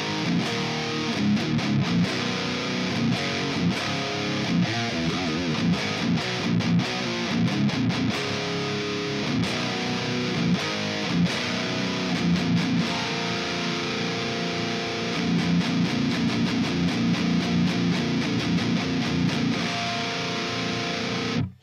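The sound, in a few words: guitar amp tone through simulated Dynamic 57 microphone, ML Sound Lab Amped ICON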